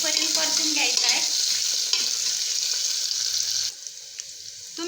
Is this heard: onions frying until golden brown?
yes